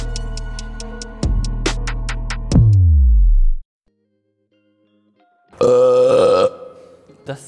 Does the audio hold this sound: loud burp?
yes